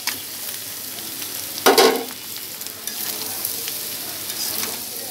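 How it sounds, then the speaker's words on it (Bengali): Pasta and vegetables stirred together with egg in a frying pan, soft scraping and sizzling with one sharper clatter of the spatula partway through, no voices. "সবজি আর পাস্তাগুলো একসাথে ভালো করে মিশিয়ে নিতে হবে।"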